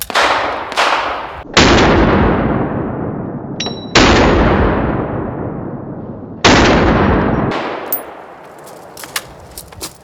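A Steyr AUG-A3 rifle fires several loud, close gunshots, each ringing out with a long echoing tail, spaced irregularly through the clip, with a few metallic clicks between shots.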